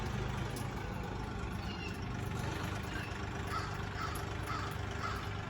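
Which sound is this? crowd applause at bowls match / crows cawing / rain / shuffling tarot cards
crows cawing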